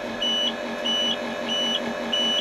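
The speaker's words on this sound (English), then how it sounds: "you hear the warning buzzer" A 1995 Ford dump truck's high-pitched electronic brake warning buzzer beeps in four evenly spaced pulses over a low engine hum, close and fairly loud, with no talking.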